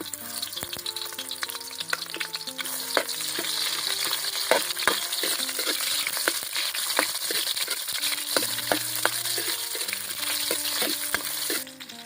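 Onion sautés in a pan with garlic, giving a constant crackling sizzle broken by repeated sharp taps and scrapes of a spatula, close and steady, with a faint tonal hum in the background and no talk.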